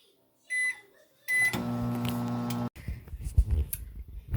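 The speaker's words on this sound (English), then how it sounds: "put it into the microwave, set it for, 30 seconds or so" A microwave oven hums steadily for about a second and a half while warming stale bread wrapped in a towel, with a short beep before it and clunks and handling noises after.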